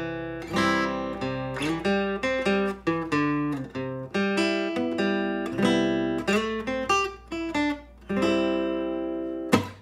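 An acoustic guitar plays three strummed chord voicings, then a broken-chord arpeggio and a quick scale run of single notes, clear and close with no voices.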